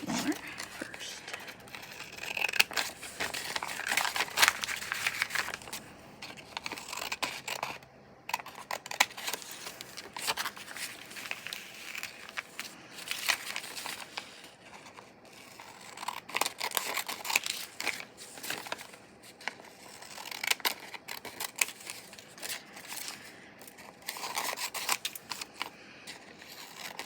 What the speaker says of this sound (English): I think what I'm going to do is cut these down a little bit more first.